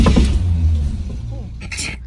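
Car engine starting and running roughly with a mild engine failure, a close, uneven low rumble that fades over about two seconds, with a voice speaking over it.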